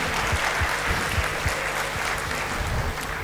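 Audience applause at a petroleum industry conference, a dense, steady patter of many hands clapping that holds evenly for a few seconds.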